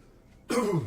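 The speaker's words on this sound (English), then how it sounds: "That mysterious coughing that I'm doing for some unknown reason." A single harsh cough or throat-clear bursts out after a quiet moment, close and fairly loud.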